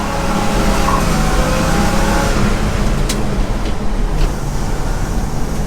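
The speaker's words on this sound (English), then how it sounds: "Yeah, it will do a burnout." A 1957 Chevy 3100 pickup truck doing a burnout: a loud, steady engine roar with a continuous rumble and hiss, close by, tires spinning in place.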